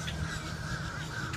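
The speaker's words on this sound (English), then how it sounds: "this is the first time that I hear these birds go crazy like this" Crows caw loudly and continuously near an Orlando, Florida stop, harsh overlapping calls filling the short moment without speech.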